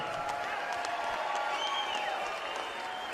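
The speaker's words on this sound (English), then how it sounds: "let's have a big round of applause for both of the fighters in this ring" A boxing crowd applauds both fighters after ten championship rounds in the Claressa Shields vs Hanna Gabriels bout, with steady clapping and cheering that holds an even level throughout.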